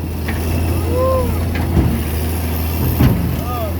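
A Kobelco SK200 excavator works nearby with a steady low engine drone, and hydraulic whines rise and fall under it. Occasional metallic clanks and knocks come from the moving arm and tracks.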